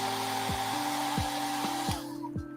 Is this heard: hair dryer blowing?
yes